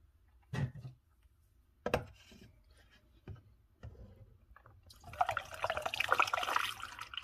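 Distilled water poured from a jug to top off a container of homemade acrylic airbrush cleaner, beginning as a few splashy drips and handling knocks, then swelling into a steady, moderately loud pouring rush.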